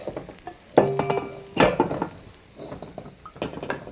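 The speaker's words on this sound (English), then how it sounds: "And I give this a stir." Utensil stirring ginger and garlic in oil in a pan, a few close scraping clanks against the metal over a soft sizzle, with no talking.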